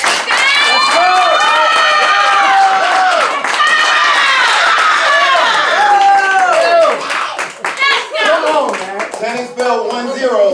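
A young girl screams and cheers loudly in the audience at a poetry slam, her shrill, strained cries carrying over crowd noise and clapping for several seconds before fading into scattered shouts.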